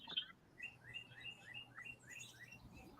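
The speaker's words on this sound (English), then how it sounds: "That's birds. probably me. I've got birds. I'm on my patio." Birds chirp outdoors on a patio in a steady run of short, repeated high tweets, a fairly close string of calls over a low background hum with no talking.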